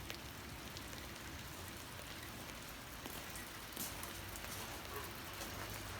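Rain falling on an enclosed former porch roof, a constant soft hiss of drops with faint scattered patter, steady and even with no voices.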